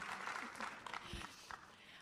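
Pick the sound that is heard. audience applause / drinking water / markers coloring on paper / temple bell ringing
audience applause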